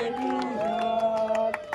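A crowd at a birthday celebration claps and cheers in scattered bursts, moderately near, under a sustained tonal voice or song.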